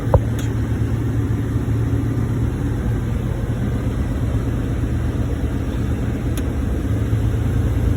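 Inside a truck cab, the engine rumbles and holds at raised revs to build air brake pressure, giving a steady, loud, low drone throughout with a couple of faint clicks.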